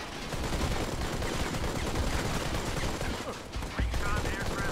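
An evolved turret in the video game Modern Combat 5 keeps up dense, rapid automatic fire over roughly five seconds, a loud continuous rattle of gunfire with battle noise mixed in.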